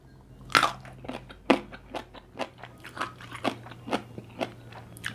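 Crunchy Thai pea eggplants eaten with chili paste give sharp, close bites followed by a rhythmic series of crisp crunching chews, loud and alone without talk.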